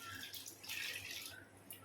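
Water poured into moong dal in a pot for cooking, a soft, faint steady splashing pour heard up close.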